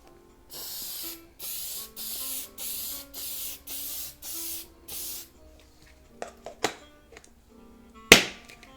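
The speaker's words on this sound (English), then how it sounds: "So that's why I just use a light fixative like this one." Light fixative sprayed from an aerosol can onto sanded pastel paper: eight even hissing bursts in a steady rhythm, close and fairly loud, followed by a few small handling clicks and taps.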